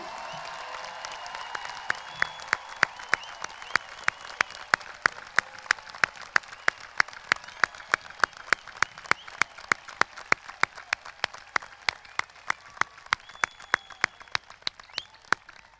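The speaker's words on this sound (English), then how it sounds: "How about a round of applause for the class of 2022?" Sustained applause from a large high school commencement audience honoring the graduating class of 2022, steady dense clapping with sharp individual claps standing out, continuing evenly throughout without voices.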